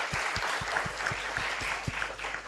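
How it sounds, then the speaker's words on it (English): Clapping from the audience at a business case competition's champion round, a dense patter of many hands close by, with a rhythmic low thumping running underneath. "A round of applause."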